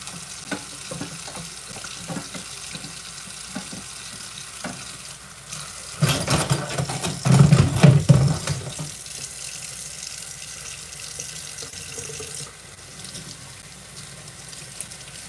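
Tap water runs into a sink to soak dirty dishes, a steady close hiss that swells into a louder splashing rush in the middle before settling back to a softer flow.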